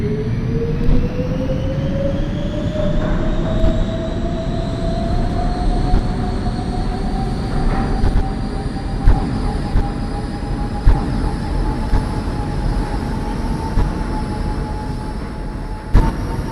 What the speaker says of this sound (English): This is a Brooklyn-bound B train.